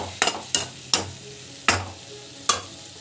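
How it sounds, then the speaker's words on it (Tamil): A spoon scrapes and stirs food around a pan in about six distinct, evenly spaced strokes, each a close, sharp scrape fading quickly, with a faint sizzle beneath and no talking. "ஸோ ஜஸ்ட்டு வந்து கலக்கி விட்டுருங்க."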